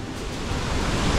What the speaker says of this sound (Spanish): Se siente durísimo la caída del agua, ¿no?